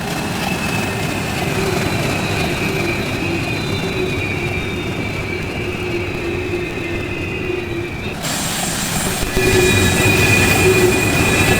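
Steady, constant wheel squeal from a passing train in the Trainz 2019 railroad simulator, with a K&L Southern PS-4 Crescent Limited, loud and continuous over a rumbling rail roar that shifts briefly near the end, with no talking.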